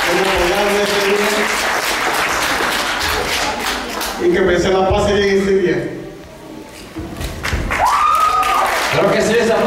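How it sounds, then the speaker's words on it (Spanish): Guests at a quinceañera party clap and applaud, and the dense clapping swells and fades in waves around someone speaking over a microphone. "ese aplauso para el papá de lo más profundo de su corazón"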